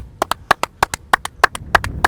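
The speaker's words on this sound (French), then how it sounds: "Bah, j'applaudis" A few people clap in an uneven, loose rhythm, about a dozen crisp claps close by, loud and clear with no speech over them, at a gathering congratulating a rugby team on a trophy.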